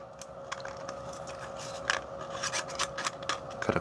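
Scissors snip through a thin aluminum beer can wall, cutting up to a ridge on the can: a quiet run of short crisp crunches and rubbing scrapes with a faint steady hum beneath.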